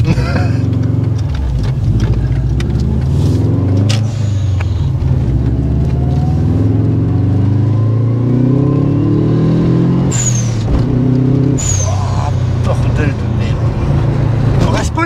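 A Subaru Impreza GT Turbo accelerates hard from inside the cabin, its engine note climbing through gears with brief shifts between pulls while people talk over the steady roar.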